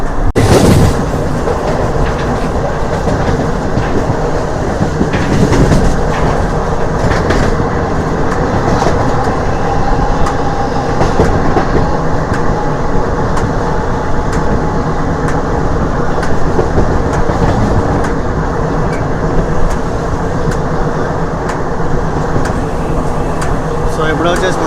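DEMU passenger train running from Nandyal to Tirupati, skipping Kommalapalli station amid hilly country, gives a steady, loud rumble with rail clatter and faint rhythmic clicks throughout, heard from on board.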